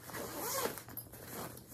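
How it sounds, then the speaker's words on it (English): A zipper being pulled open on a crochet yarn bag, one continuous close zipping rasp lasting under two seconds, with no talking. "I'm going to unzip this and show that to you guys."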